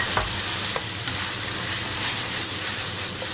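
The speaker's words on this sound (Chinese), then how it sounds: "红烧酱油，炒出酱香。" Chicken stir-fried in a wok with soy sauce, chili paste and yellow wine for Chinese big plate chicken, giving a steady close sizzle and hiss with a few soft stirring scrapes throughout.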